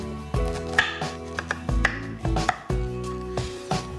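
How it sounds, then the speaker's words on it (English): A knife cores and slices pears on a board, giving a series of close, sharp cutting taps and scrapes at an irregular rhythm, with no talk. "coring, and slicing up my pears."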